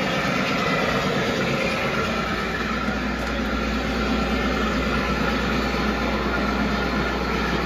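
A running train rumbles steadily and loudly throughout, a continuous low engine and rail drone with no breaks.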